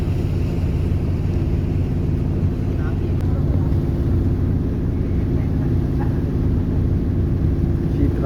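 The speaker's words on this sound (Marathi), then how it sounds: "ही बघा आपली शिपची टेंडर बोट" A cruise ship's tender boat near Koh Samui port runs its engine as a constant low rumble and drone that holds steady and loud throughout, with no voices over it.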